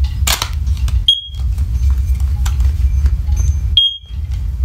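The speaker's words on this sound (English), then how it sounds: "that beep is a lot lower and louder" A first-generation First Alert OneLink hardwired smoke alarm sounds two short, loud beeps spaced about three seconds apart over a steady low background hum.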